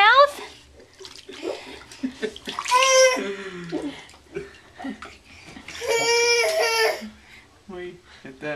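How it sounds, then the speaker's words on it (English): A small child splashes water in a bathtub, close sloshes and slaps mixed with babbling, fussy cries and an adult speaking over the splashing. "That is good splashing. You are really good at splashing."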